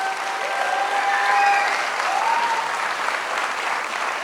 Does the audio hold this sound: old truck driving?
no